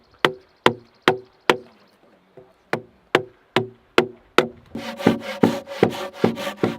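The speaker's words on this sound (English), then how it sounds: "we need to cut the tenon" Sharp, evenly spaced knocks of a tool cutting a tenon into a log for a single log bridge, about a dozen solid wooden strikes, then a quicker run of rasping, scraping strokes near the end, with no talking.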